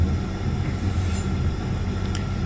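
Mumbai local train running at speed between Bandra and Borivali, a steady close rumble of wheels on rails with a low rolling drone that holds throughout, no talking.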